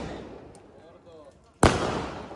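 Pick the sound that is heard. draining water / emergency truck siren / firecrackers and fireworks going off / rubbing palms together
firecrackers and fireworks going off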